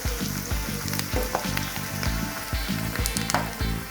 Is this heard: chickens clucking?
no